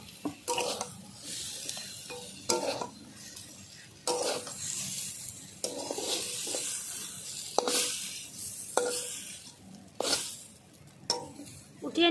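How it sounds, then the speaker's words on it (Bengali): Pointed gourd (potol) stir-fried in a pan until reddened, with repeated scraping stirs over a steady sizzle, close up, each stroke coming in bursts about every second or two. "কষিয়ে নিচ্ছি এইভাবে দেখো পটলগুলো ভালো করে একটু একটু করে লাল করে নিলাম"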